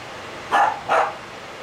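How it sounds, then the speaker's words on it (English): A dog barks twice in quick succession, fairly close and loud, over a steady hum of computer fans from overclocked GTX 285 graphics cards. "Shut up, dog."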